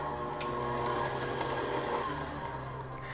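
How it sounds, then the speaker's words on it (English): An electric mixer beats an egg into vanilla cupcake batter, a steady, loud, close motor whir that runs unbroken throughout. "I'm going to turn on the mixer and beat that in"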